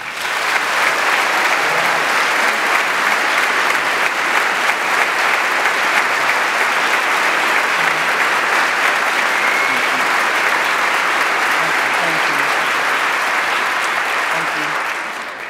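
Sustained applause from a large audience at the Westminster Town Hall Forum, welcoming speaker Barbara Brown Taylor: dense, even clapping holding steady for about fifteen seconds and tapering slightly at the end, with no talk over it.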